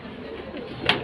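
A pigeon coos briefly at a bird seller's stall of pigeons and sparrows, one soft call over low background noise.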